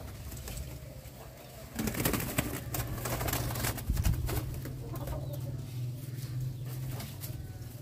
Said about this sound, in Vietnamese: Còn bên bên này là toàn bộ dãy chim sản này.